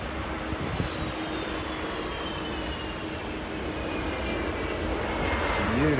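A Delta airliner lands at Heathrow airport, its engines making a steady, fairly distant roar and jet whine that slowly builds toward the end, with no talking.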